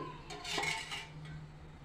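A metal kadai clanks as it is set down on a stove, a brief ringing scrape followed by fading quiet.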